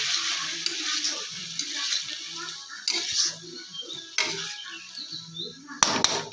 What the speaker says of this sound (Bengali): দিয়ে বেশ কিছুক্ষণ আবার নাড়াচাড়া দিয়ে নেব